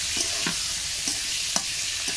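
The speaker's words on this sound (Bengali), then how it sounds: "হলুদটা দিয়ে আমি আরও একটু পটলটা নেড়ে ছেড়ে ভেজে নিলাম" Pointed gourd (potol) with turmeric stirred and fried in a pan, a steady soft sizzle with spoon scrapes recurring every half second or so, close and fairly quiet, no talking.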